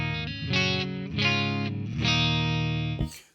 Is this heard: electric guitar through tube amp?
yes